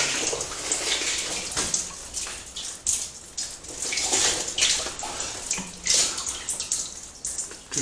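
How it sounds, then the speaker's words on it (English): Water dripping and trickling inside an underground mine from the 1800s, an irregular series of close, splashy drips and small spatters over a running trickle, with no voices. "Dripping from there."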